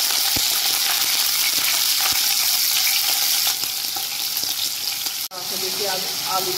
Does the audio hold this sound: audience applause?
no